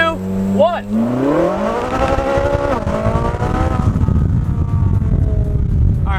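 A 600-horsepower Ferrari accelerates hard in a roll race against an electric scooter, its engine climbing loudly through the gears with a rising roar and a spell of rough, buzzing noise, heard close alongside brief voices.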